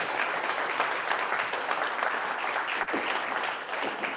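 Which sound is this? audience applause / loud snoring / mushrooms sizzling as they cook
audience applause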